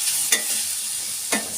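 Bottle gourd pieces fry in ghee with a steady soft sizzle, broken by two brief scrapes of a spoon stirring the pan.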